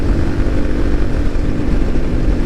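A Kawasaki KLX300 dual-sport motorcycle cruising at about 52 mph, its engine a steady, loud, continuous drone mixed with heavy wind rush, no pauses throughout.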